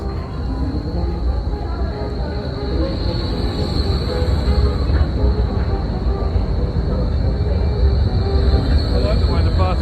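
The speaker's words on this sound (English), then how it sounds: "There's the train." Tram rolling along a Berlin street, a steady loud rumble of wheels on rail with a sustained high-pitched squeal running throughout, continuous and close.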